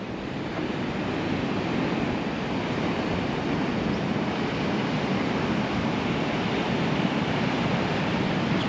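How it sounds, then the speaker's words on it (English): Waves surging and splashing onto the shore at El Golfo, Lanzarote, a continuous, full-bodied wash of surf with some wind noise, steady throughout. "look at the waves splashing up on the shore"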